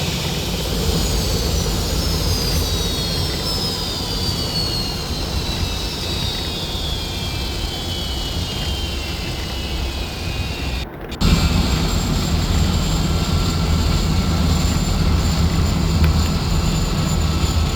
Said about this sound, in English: the shutdown sequence for the rotor speeds and everything are fairly realistic, so it'll take a good amount of time for the rotors to completely stop